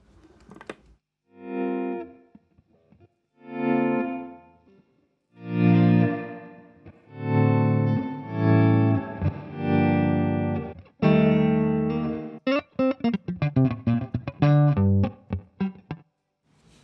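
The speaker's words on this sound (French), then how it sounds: "Ça veut dire qu'il faut mettre une reverb avec et ça va te faire un truc de malade." A bass guitar runs through a Zoom multistomp pedal with a slow-attack effect and reverb, so each note swells in softly instead of plucking, first as a series of separate swelling notes, then as faster choppy phrases, with no talking.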